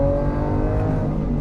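A Lamborghini Aventador S engine roars loudly and continuously under acceleration, a dense, rich mechanical howl heard from close by with no talking.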